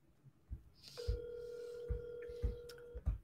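An outgoing phone call rings on the line, a steady electronic tone held for about two seconds, with faint thuds and clicks around it.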